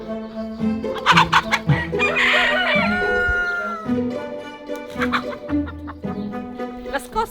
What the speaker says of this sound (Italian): Il gallo sta controllando tutto.